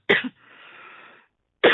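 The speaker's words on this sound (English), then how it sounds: "It's coughing up a little here today." Two sharp, throaty coughs, one at the start and one near the end, separated by a soft breathy exhale; close and fairly loud.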